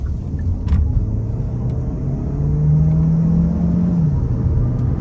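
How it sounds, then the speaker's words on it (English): A 2024 Hyundai Tucson Hybrid accelerating hard out of a corner, heard from inside the cabin as a steady road rumble with an engine drone that climbs in pitch, holds, then drops away as it shifts. "So I'm gonna come out of this corner and try and nail it."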